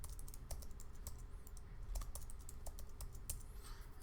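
Quiet, close computer keyboard typing while login details are entered, a steady run of light key clicks with no talking.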